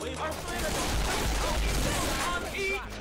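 Dense gunfire from several weapons at once in the zombie shooter Left 4 Dead 2 (modded), a loud continuous rattle of shots through the whole moment with a voice talking over it.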